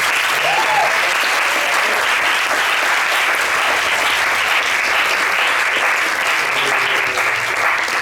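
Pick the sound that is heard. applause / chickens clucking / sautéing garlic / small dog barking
applause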